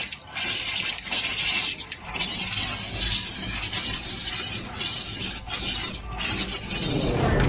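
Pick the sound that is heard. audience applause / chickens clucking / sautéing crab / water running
water running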